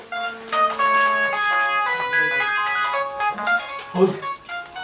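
A phone ringtone plays as a steady melodic tune of sustained tones through the whole stretch, loud and close, with a person's voice briefly breaking in near the end.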